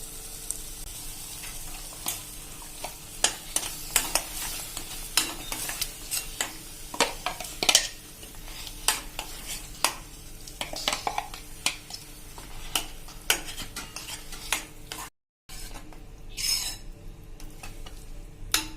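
Spinach puree is stirred into a cooked tomato and onion gravy in a pan for palak paneer, with repeated sharp spoon clinks and scrapes against the pan over a soft sizzle, and a brief dropout near the end.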